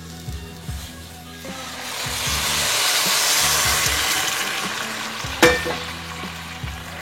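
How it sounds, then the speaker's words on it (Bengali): Water poured into a hot pan of peas pulao bursts into loud, steady sizzling and hissing that swells and holds for several seconds, with a sharp clank partway through and quieter bubbling near the end. "জলটা দিয়ে দিচ্ছি।"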